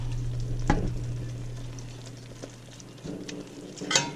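Ground beef sizzles in a pot over high heat for taco soup: a steady, close frying hiss with a low hum beneath, a couple of sharper pops and scrapes, and no talking.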